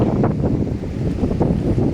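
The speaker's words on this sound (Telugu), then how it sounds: "చాలా పెద్ద పెద్ద అలలు." Big sea waves surge and crash at the Bay of Bengal near a harbour and lighthouse, with loud, constant, rumbling wind buffeting the microphone.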